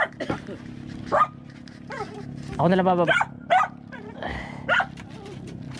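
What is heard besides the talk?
dog barking while being fed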